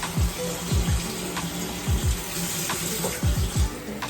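Tap water running into a sink to mix bread dough, a steady close stream with gurgling splashes and a few clunks as the flow shifts, no talking.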